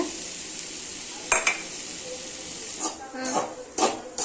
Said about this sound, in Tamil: முட்டை போட்டு நல்லா கிண்டிக்கலாம்